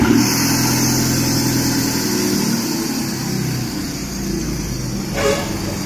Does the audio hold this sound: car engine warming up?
yes